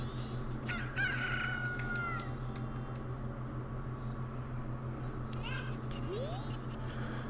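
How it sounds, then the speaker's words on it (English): Video-game cuccos, grown from chicks, crow in repeated shrill calls over a steady droning background, with a rising squawk near the end. "all these little chicks are turning into cuckoos"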